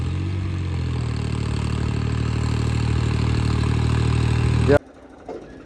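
A tractor engine runs hard while stuck in sand on a Rajasthan road, a loud, steady low drone that cuts off abruptly near the end, followed by a brief faint knock.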